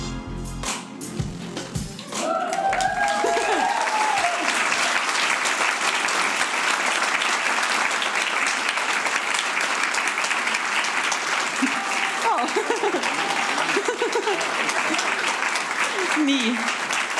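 Sustained, loud applause from a conference audience in Estonia swells after a short pause and continues evenly for about fifteen seconds, with a few voices audible faintly at the start and later.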